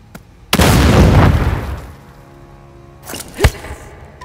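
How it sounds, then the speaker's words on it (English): Grenade explosion in the video game Second Extinction: a loud, close blast with a long rumbling decay, followed by a smaller sharp thump a few seconds later. "Grenade!"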